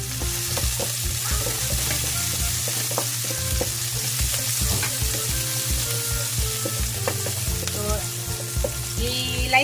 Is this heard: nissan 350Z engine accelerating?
no